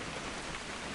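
Steady rain in the video game What Remains of Edith Finch falls as an even, dense hiss, brief and constant, with no voices.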